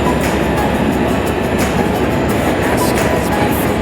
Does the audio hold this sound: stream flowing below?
no